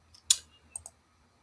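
A computer mouse gives a few sharp, quiet clicks: one strong click, then a quick pair a moment later, in an otherwise silent room.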